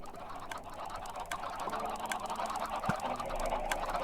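A dense flock of chickens in the Minecraft map Super Hostile Spellbound Caves 2 clucks and squawks loudly and continuously, many overlapping bird calls forming a noisy wall of sound with sharp individual cries poking through.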